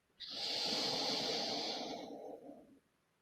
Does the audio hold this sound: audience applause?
no